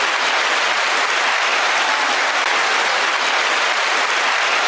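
A crowd of people claps steadily on a live show, a continuous, even wash of applause with no voices on top, holding at the same level throughout.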